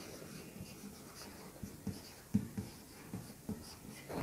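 Pen or chalk writing out numbers by hand during a maths lesson, a soft scratchy stroking with several brief taps and strokes, faint and close, with no talk over it.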